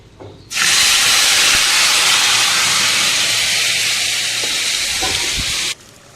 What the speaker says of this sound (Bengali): এবার দিয়ে দেবো আদা রসুন এই পেঁয়াজ আর টমেটোর পেস্টটা